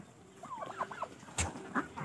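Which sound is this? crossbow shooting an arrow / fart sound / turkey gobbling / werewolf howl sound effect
turkey gobbling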